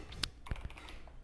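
A handful of computer keyboard keys clack while Go code for a web scraper is typed, a few close, distinct clicks spread unevenly over about a second.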